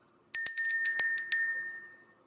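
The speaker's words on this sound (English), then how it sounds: "Let's ring the bell." A small bell rings in a quick run of about seven bright metallic strikes, loud and close, then decays into silence.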